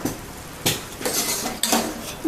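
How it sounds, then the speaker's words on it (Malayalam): Chicken thoran is stirred in a pan with three sharp scraping and clinking strokes of a metal spoon, spaced about a second apart, close and fairly loud over a faint background. "നല്ലപോലെ ഇളക്കുക."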